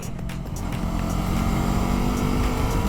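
Sport bike accelerating on a race track, a loud, steady engine roar with continuous wind rush that holds up close for the whole moment.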